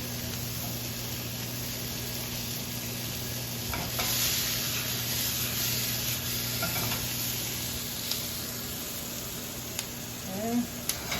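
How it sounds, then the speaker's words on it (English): Mushrooms and chopped garlic sauté in a hot pan with a steady, even sizzle that runs throughout, near and moderately loud, with a few faint clatters toward the end. "Throw in the mushrooms."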